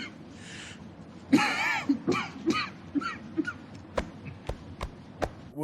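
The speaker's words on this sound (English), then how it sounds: "He was coughing real serious right there." A man coughs several times in a rough, hacking series, followed by a few sharp clicks or taps at a steady pace.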